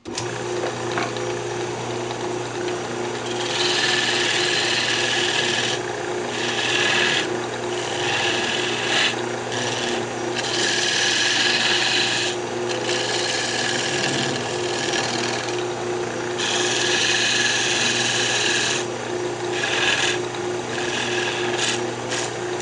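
A hook tool scrapes and cuts a spinning maple box on a wood lathe, giving a steady, close, raspy whirring that swells and dips in short stretches throughout.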